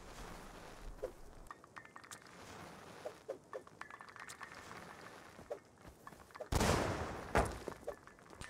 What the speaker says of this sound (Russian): Так, взрываю.